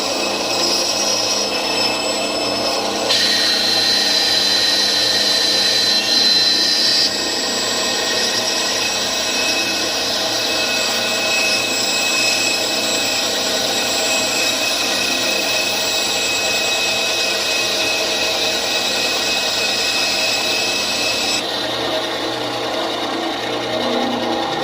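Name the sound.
small bandsaw running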